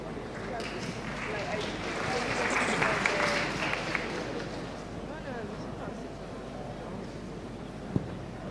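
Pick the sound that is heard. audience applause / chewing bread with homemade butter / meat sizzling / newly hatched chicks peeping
audience applause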